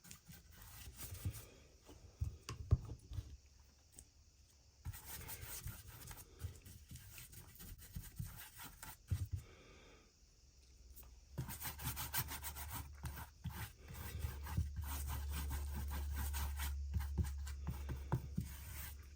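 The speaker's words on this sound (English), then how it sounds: "I'm going to take some white wax, go over the bottom, I guess all over it actually." Broadband rubbing and scrubbing as white wax is worked over a thrift-store wooden tray, close and steady in irregular bursts, with a low continuous hum joining in the latter half.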